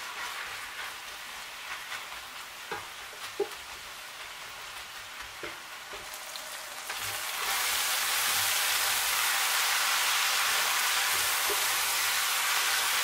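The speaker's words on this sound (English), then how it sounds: "Add and continue to fry." Spring onion and tomatoes fry in a pan with a steady, even sizzle that starts faint and thin and swells loud and dense partway through, holding without a break to the end.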